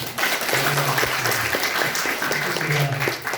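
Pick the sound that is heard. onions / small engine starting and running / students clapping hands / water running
students clapping hands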